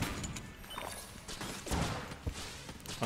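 Muffled gunfire from the game Enter the Gungeon pops a few times over a noisy, busy background, with no voices.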